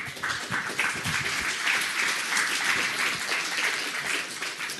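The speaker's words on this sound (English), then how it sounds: "Let's give him a warm round of applause." A conference audience at a Python developer event claps steadily and densely for an incoming speaker, a full, even round of applause with no talking over it.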